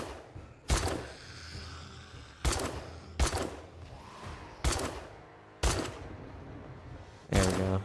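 Gunfire in the survival video game 7 Days to Die: six sharp, loud shots spaced about a second apart, each with a short decaying tail, with a quiet background between them.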